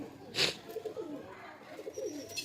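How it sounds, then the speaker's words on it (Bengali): A restless pigeon at a loft sale coos in soft, low repeated phrases close by, with one brief sharper burst near the start. "পায়রা খুব ছটপটে পায়রা, হাতে থাকছে না"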